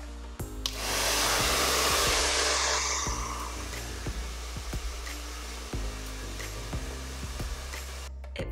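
A hair dryer blows steadily on hair being dried in small sections before flat ironing, a loud close whooshing airflow that runs nearly the whole time with faint handling clicks.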